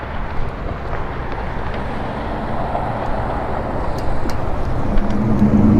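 A truck passing on the road, heard from an e-bike at the roadside: a broad, steady rumble with wind buffeting that swells toward the end as the vehicle draws near and goes by.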